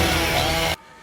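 A chainsaw cutting through a wall in a Buffy the Vampire Slayer episode, a loud, dense buzzing roar held steadily for most of a second before cutting off abruptly into quiet.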